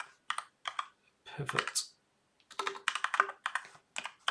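Quick bursts of typing on a computer keyboard, clusters of close, crisp key clicks separated by short pauses, with a brief spoken word partway through.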